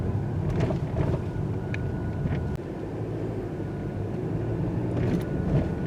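A 2023 Mercedes-Benz GLC 300 SUV in comfort mode drives at about 20 mph over a road bump, heard from inside the cabin as steady road rumble with a few brief muffled thumps and no talk.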